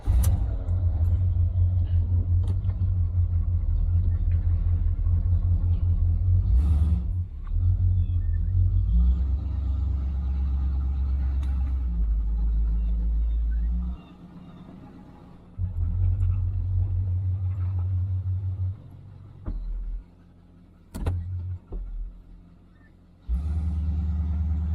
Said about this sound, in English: we're running along about 60 miles an hour out here on the open road